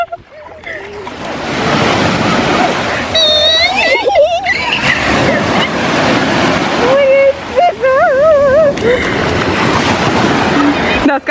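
Sea surf rolls onto the shore at Sozopol in a loud, continuous wash of breaking waves, with people talking nearby and several brief high vocal sounds cutting through.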